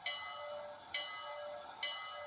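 Three evenly spaced bright bell dings from a Bachmann model train's DCC sound, each ringing out and decaying before the next, clear and close with nothing else around them.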